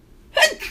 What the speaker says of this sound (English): yep, sneeze is coming.